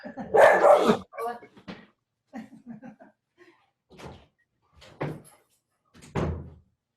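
A dog barks in short, separated bursts at someone at the front door of a home, a loud first yelp followed by quieter scattered barks and thumps across a few seconds.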